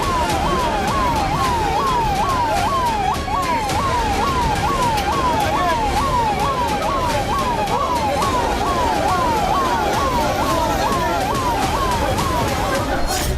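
An ambulance siren cycles in a steady rising-and-falling wail as it arrives at a crowded hospital during the Israel-Hamas war. The siren stays loud over constant crowd babble and traffic noise.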